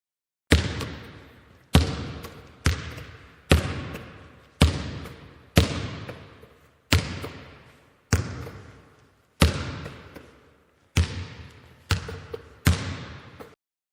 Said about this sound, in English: Here's an example of a bouncing basketball that you can hear.